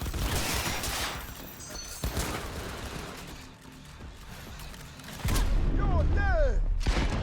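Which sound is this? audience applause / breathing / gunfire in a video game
gunfire in a video game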